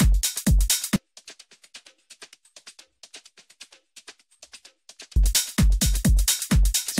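Drum top loop for a dark tech house track, with crisp hi-hats and percussion ticking quietly in a tight pattern, framed by louder punchy kick-driven hits at the start and end.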